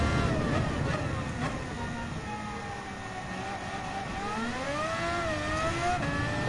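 A Renault Kangoo revving hard in Gran Turismo 7, its engine pitch climbing and dipping through gear changes, loud and steady throughout with no speech.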